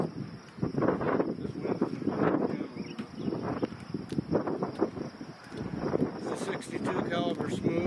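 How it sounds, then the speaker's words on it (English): Wind gusts outdoors buffet the microphone with uneven low rumbles while someone talks steadily throughout. "This wind doesn't blow the camera."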